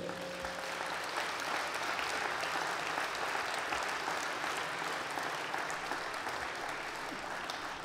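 An audience at a 2019 New Year's greetings ceremony in Vendargues applauds volunteers, giving steady, dense clapping that holds at an even level for about eight seconds with no speech over it.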